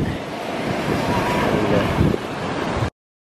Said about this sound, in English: Check out the shore break